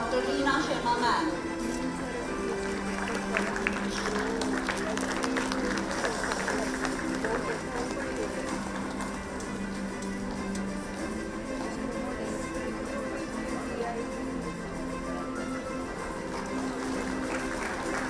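A conference audience gives sustained applause for dignitaries on the dais at a university event, a broad, steady wash of clapping throughout with a crowd murmuring under it.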